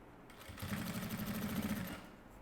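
A sewing machine stitches bias binding onto a fabric hygiene kit in one steady, fast run of under two seconds, close and even, with quiet before and after.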